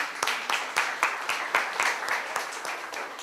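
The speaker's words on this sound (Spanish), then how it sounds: "por favor un aplauso para ustedes" Audience at a startup event in Bogotá claps in a sparse, uneven rhythm, about a dozen distinct sharp claps over a few seconds from a small group, moderately close with no voices.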